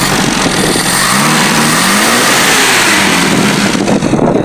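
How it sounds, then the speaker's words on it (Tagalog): An owner-type jeep's engine revs loudly and steadily up close, a continuous rough roar with rising and falling pitch as the throttle is worked, while it runs on a temporary fuel feed. "Ah, maganda po yung makina."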